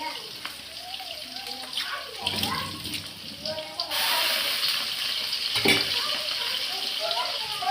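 Fennel seeds, cumin, onion and curry leaves sauté in a pan for egg thokku. The sizzle hisses under a person talking and swells louder midway as more goes into the hot oil.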